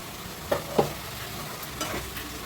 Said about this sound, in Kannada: ಸ್ವಲ್ಪ ಬೆಳ್ಳುಳ್ಳಿ ಶುಂಠಿ ಪೇಸ್ಟ್ ಹಾಕ್ತಾ ಇದ್ದೀನಿ.